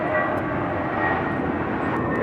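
An airliner rolls for takeoff on a runway at LAX, a loud, steady roar of engines filling the whole moment without any break.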